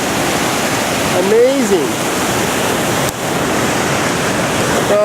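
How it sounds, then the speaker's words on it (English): Powerful waterfall on the Fuji River in Japan, a steady loud roar of crashing water filling the whole scene, with a man's brief spoken exclamation over it. "So thank you for joining me here at the falls, along the beautiful and powerful and awesome Fuji River."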